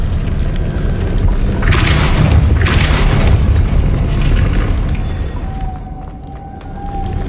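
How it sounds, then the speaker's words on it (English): A spinning stone mechanism in Hogwarts Legacy raises a platform with a loud, sustained grinding rumble that swells, carries some hissing texture, then fades into a quieter tone near the end. "Making this spin ought to raise that platform."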